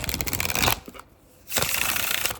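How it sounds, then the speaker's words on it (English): A deck of tarot cards gets a quick riffle shuffle: two close, crisp bursts of fluttering card noise separated by a short pause, with no talking. "Do a little quick shuffle."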